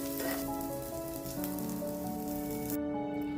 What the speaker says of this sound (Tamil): அடுத்து வெங்காயம் வெள்ளப்பூ எல்லாத்தையும் நல்லா வறுத்துக்கணும்